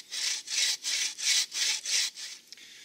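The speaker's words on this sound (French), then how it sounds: "Pour scier, c'est pas compliqué. Je prends la scie du côté le plus gros" A hand saw cuts through wood outdoors for bushcraft, with seven even, rhythmic back-and-forth strokes, each a loud rasping burst separated by brief pauses.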